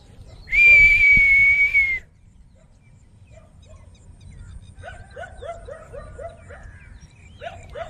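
A loud, sustained steady whistle blown to call a dog, lasting over a second, followed by faint chirping birds in an outdoor setting after heavy rain.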